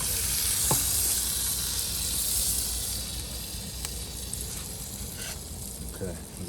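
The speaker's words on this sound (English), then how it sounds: "we're going to let the fillets cook a little bit longer, a little thicker" Fish fillets cooking on a camp grill outdoors give off a steady, faint sizzle and hiss with a few soft clicks and scrapes, with no voices.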